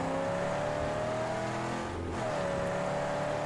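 In the Mad Max video game, cars drive away with a steady engine drone and a tonal whine that dips and then rises again, moderately loud and continuous.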